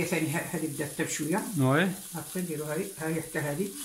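Aubergine slices fry in oil in a pan with a steady, close sizzle that runs throughout, partly covered by a voice talking over it.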